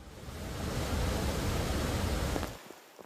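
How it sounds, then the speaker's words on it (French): The Gasteiner waterfall in Austria, swollen into a huge muddy torrent after heavy rain, gives a loud, steady broadband roar for about two and a half seconds before it suddenly drops away. "image impressionnante de la cascade de Gasteiner Fall qui s'est transformée en un énorme torrent d'eau"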